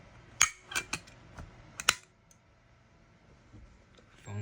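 A Radionics D2071 fire alarm communicator's phone relay clicks on, a few sharp, close mechanical clicks in quick succession within the first two seconds, then a quiet room hum.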